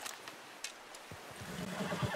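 Horse in Red Dead Redemption 2 whinnies and snorts briefly amid soft hoof clops, fairly faint against a quiet outdoor game ambience, with no talking.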